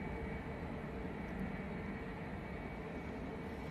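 A Boeing 757 airliner taxiing at Manchester Airport during a windy storm, a steady, loud engine roar and hum that holds evenly throughout with no talking.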